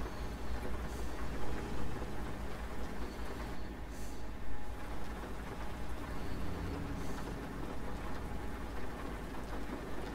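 Rain falling on a truck cab while driving in the dark, a steady soft patter and hiss over a low engine rumble, with faint passing swells.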